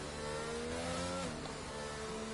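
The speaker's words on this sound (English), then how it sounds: "You can hear the engine note." A race car's engine note in a PlayStation racing game at Abu Dhabi, a steady high-revving drone held at a continuous level with slight pitch shifts, alone without talk.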